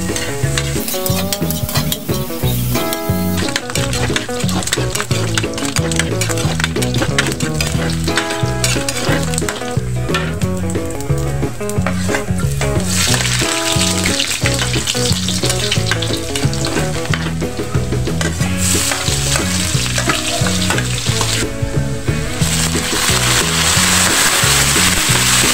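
Pork fat frying in a pan while pinakbet ginataan is cooked, a steady dense sizzle that stays loud and close for the whole stretch, with no talk over it.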